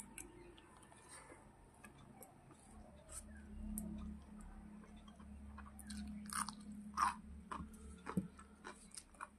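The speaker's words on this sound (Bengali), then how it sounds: "লঙ্কাটা খেলাম" A raw green chili is eaten up close in a quiet room, with soft crunchy bites and wet chewing that comes in small irregular clicks against faint background hum.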